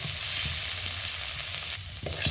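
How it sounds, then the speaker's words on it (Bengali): Ground coriander, cumin and salt fry together in a pan, a dense continuous sizzle with the soft scrape of stirring near the end. "এখানে এইভাবে মশলাটি একসাথে মিশিয়ে ভালোভাবে ভেজে নেবো"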